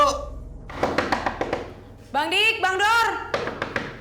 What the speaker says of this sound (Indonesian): Ada yang ngetok pintu tuh.